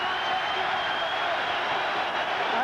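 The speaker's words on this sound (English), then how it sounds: "And you'll hear a big roar from the crowd." A boxing arena crowd roars steadily as round one of Lennox Lewis versus Frank Bruno ends, a dense, continuous wash of cheering and applause held at an even loudness throughout.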